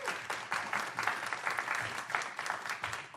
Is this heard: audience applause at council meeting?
yes